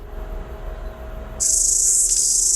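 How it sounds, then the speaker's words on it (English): Cicada in a forest clearing, a loud, high, steady buzzing drone that starts abruptly partway through over a quiet low background hum and continues to the end. "What's that noise? Cicada."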